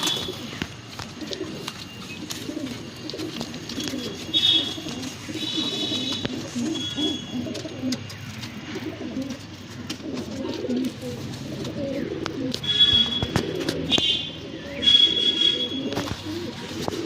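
Pigeons in a home loft keep up a low, continuous cooing and soft burbling throughout, with occasional faint whistling notes and light rustling, no voices.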